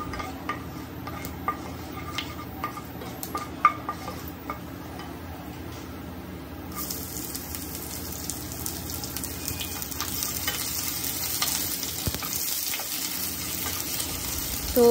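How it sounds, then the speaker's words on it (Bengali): Chopped onions sizzle in hot oil in a wok with dried chilli, bay leaf and five-spice tempering, giving a steady frying hiss that grows brighter midway, with faint ticks and stirring clicks and no talk. "তো পেঁয়াজটা ভাজা ভাজা করে নেব।"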